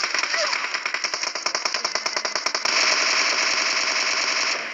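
Automatic gunfire in a video game battle rattles in fast, loud bursts of rapid shots, then gives way to a dense, continuous roar of firing and noise, close up and dominant.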